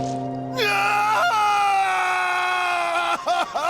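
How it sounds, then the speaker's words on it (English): Barret screams in Final Fantasy 7 Rebirth, a long anguished cry that holds a rising, strained pitch for several seconds and then breaks into short, gasping sobs, loud and close. "The only thing Barret can do is scream."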